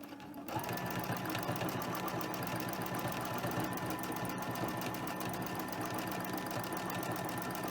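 A sewing machine fitted with a darning foot runs steadily for free-motion quilting, a fast, even, close-up needle rattle continuing unbroken for several seconds.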